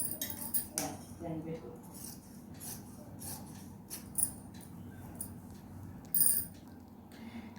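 Scissors snip crosswise through dress fabric at a one-inch mark, light metallic clicks and snips sounding close and quiet against a soft background hum.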